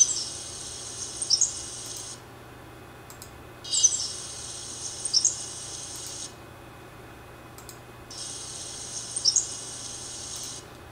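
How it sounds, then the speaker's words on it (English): Sparrow calls played back with the low frequencies filtered out: three short bursts of thin, high chirping separated by quiet gaps, faint over a soft hiss. "And this is the sparrow. Fairly high frequency and hard to hear."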